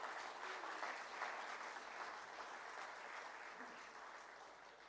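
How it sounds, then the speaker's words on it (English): A large audience at a postgraduate alumni gathering applauds in a dense, steady wash of clapping that holds evenly for the whole stretch, heard from a distance and fairly soft. "Everyone, please give a big round of applause for all your guides and thesis supervisors."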